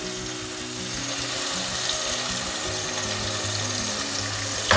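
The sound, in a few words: pouring ground coconut paste into simmering fish curry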